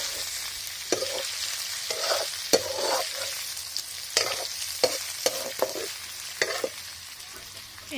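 Meat and onions sizzle steadily in a pan as oil renders from the meat, with repeated sharp scrapes and clatters of a utensil stirring at irregular intervals, close and clear with no talking.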